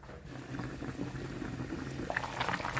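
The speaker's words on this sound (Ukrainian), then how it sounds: "Так що у нас тут із супчиком, супчик гарно кипить." Soup bubbles steadily in a pot, a close, busy rolling boil with small pops and gurgles throughout.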